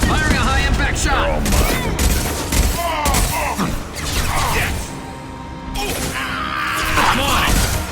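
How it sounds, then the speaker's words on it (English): Gunfire and impacts from the video game Mass Effect 2 crack and crash through a busy combat scene, with shattering debris, mechanical noise and voices talking throughout. "Firing a high-impact shot!"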